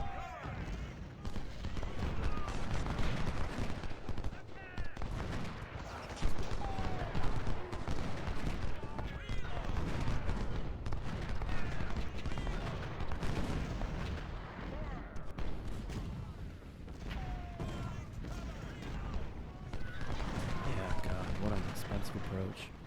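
Artillery booms and gunfire rumble continuously through a Gettysburg battle in the video game Ultimate General, a dense, heavy barrage with someone talking over it throughout.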